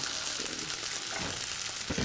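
Chili powder fries in hot oil aboard a houseboat in Kollam, Kerala, a continuous close sizzle and crackle with a few stirring scrapes and no voices.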